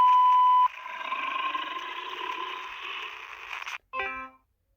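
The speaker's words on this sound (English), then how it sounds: "You can leave a message after the beep." A voicemail beep in the ARGUS video game: a steady electronic tone that cuts off into a longer droning signal, then a short harmonic blip, heard alone and fairly loud.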